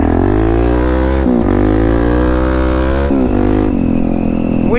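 Suzuki DR-Z400S dual-sport motorcycle with a 21-inch front and 18-inch rear tire ridden through log-strewn woods, its single-cylinder engine droning loud and steady with a few throttle dips and rises.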